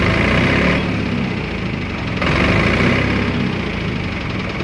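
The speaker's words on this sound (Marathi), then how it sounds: "बाकी मित्रांनो ट्रॅक्टरचा आवाज वगैरे ऐकायचा असेल तुम्हाला तर या प्रकारे मिळून जाईल" A new Eicher 251 mini tractor, 4x2 model, idles with a steady, fairly loud engine drone and low rumble, continuous and close throughout with no talking.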